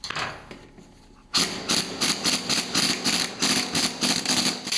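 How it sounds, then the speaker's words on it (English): Bolts being unscrewed by hand tool on an old Soviet engine: after a quiet opening, a close run of rapid metallic clattering and ratcheting bursts repeats steadily without talk. "Let's just unscrew these bolts for now."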